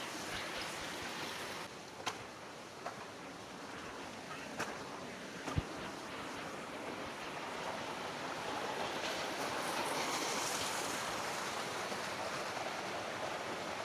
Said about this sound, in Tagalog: Maraming tubig pababa.